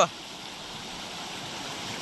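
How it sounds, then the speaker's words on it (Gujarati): Water rushes at full pressure at Kadamgiri, a continuous broad roar like a strong stream or outflow, steady and close throughout. "પાણીનો ફૂલ પ્રેશર વધારે છે"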